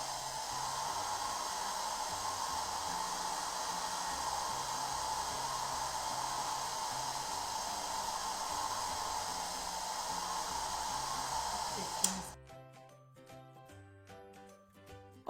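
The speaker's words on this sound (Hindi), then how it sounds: "ठीक इसके बैक साइड में हेयर ड्रायर से इसको गर्म करेंगे।" A hair dryer blows hot air onto the back of a plate to loosen a sticker, a steady, even whooshing hiss that runs for about twelve seconds and then stops, giving way to quiet music.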